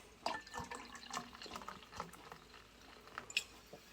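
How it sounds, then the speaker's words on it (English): Topo Chico mineral water poured into a drink, a soft close trickle with light fizzy splashes and a few drips, faint and alone without talk. "So we'll go with the Topo Chico mineral water, and then you're gonna go about half with that."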